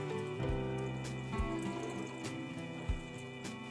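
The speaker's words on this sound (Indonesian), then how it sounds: "Rock wool yang harus dibasahkan dulu. Ini ada airnya ya, kita basahkan di sini." Water is poured over rock wool to wet it before planting hydroponic mint leaf cuttings, giving soft trickling and splashing with a few sharper drips, close and fairly quiet.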